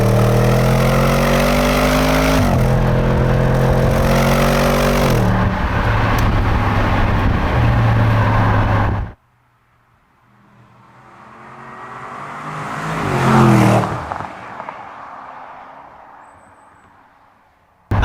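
2021 Audi S8 engine and exhaust, a loud close revving roar rising in stepped pitch through several gears, then cutting out before the car sweeps past in the distance, building to a peak and fading away.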